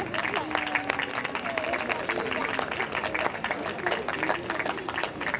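Delegates applaud presenters at an art festival awards ceremony, a dense, steady wash of clapping that carries on throughout with voices and tonal sounds mixed underneath.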